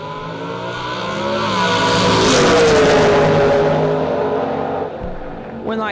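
Door cars in the blue-run sticker category launch side by side down a drag strip, engines swelling to a loud roar that peaks mid-clip and fades as they pull away, with faint talk underneath.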